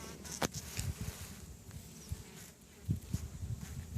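A steady hum of many honeybees buzzing close by in a hive, with irregular low thumps and knocks through it.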